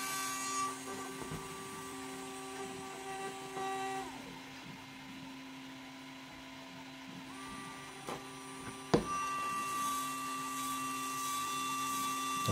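Micro RC crawler motor spinning on an electronic speed controller on a 2S battery, a thin high whine that steps between pitches and holds steady tones, with a sharp click partway through.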